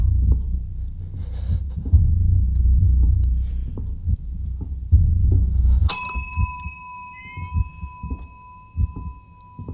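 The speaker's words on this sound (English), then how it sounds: "I don't want to ring any more bells." In the horror game Suite 776, a single loud bell strike rings out midway and hangs with a long, pure, slowly fading tone over an earlier low rumbling background, with no talking.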